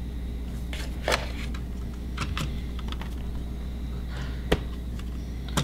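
Typing on a Logitech K380 compact multi-device keyboard: sparse, irregular key clicks, close and crisp, with a few sharper taps standing out over a quiet steady room hum, no talking.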